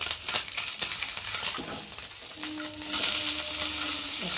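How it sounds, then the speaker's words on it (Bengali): Steady hiss of fish frying in hot oil with scraping and clinks as pieces are turned, growing louder and brighter toward the end. "এক পিস করে মাছ ভাজা হয়ে গেছে, আর আমি এখন উল্টিয়ে দেবো"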